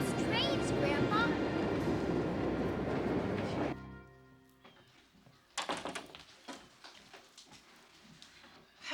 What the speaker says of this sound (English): Look at all those trains